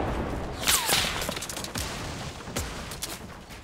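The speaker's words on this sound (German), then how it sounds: "Wie sie sich hier gegenseitig die Basen einfach zerschießen" Gunfire in the Fortnite video game as players shoot apart each other's bases, heard as scattered sharp broadband cracks and bursts with a whistling streak near the start, fairly close with no talk.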